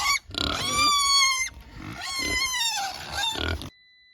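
A young pig squealing and oinking in high, wavering cries with short pauses, loud and close among larger pigs, followed by a moment of silence.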